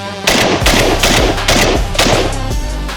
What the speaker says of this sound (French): Là, on va essayer de faire un tir de vitesse.